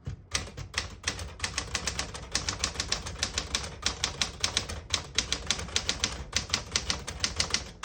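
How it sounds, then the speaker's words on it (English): Someone types on a 1967 Smith-Corona Classic 12 portable typewriter. Crisp, rapid keystrokes come in steady bursts with brief pauses between words, close-up and clear, with no talking. "I'll type a sentence in red on the next line."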